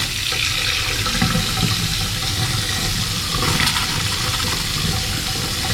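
A newly installed faucet runs hard into a sink, a loud continuous rushing of water with rough sputtering texture from air in the line, close and steady throughout.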